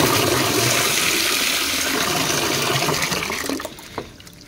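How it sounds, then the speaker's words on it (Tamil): Waste sour buttermilk from the kitchen poured out as plant fertilizer makes a loud, continuous close splashing rush of liquid that thins and trails off into a few drips near the end. "இங்கே பாருங்கள், கிச்சனில் வேஸ்ட்டான புளிச்ச மோர்"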